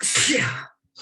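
One loud, close sneeze bursts out during an online members' meeting, fading after about half a second before a voice speaks briefly.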